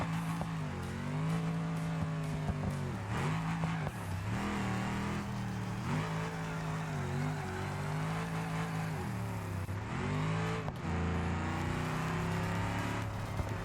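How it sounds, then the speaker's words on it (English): Loud straight-piped V8 car engine in a video game, droning steadily as it drives, with repeated dips and rises in pitch as the throttle lifts and reapplies. It is continuous and close, with no talking. "It's also a straight pipe V8, so it's really loud."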